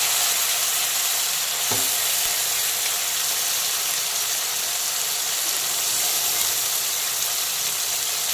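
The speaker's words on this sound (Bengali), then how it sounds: "এখন চিকেনটাকে খুব ভালো করে ভেজে" Marinated chicken fries in hot oil in a wok, giving a loud, continuous sizzle throughout with one brief knock early on.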